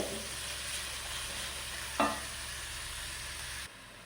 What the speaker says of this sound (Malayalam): ചെറിയ ഉള്ളി, സവാള, പച്ചമുളക് ഇതെല്ലാം നന്നായി വഴറ്റി എടുത്തിട്ടുണ്ട്.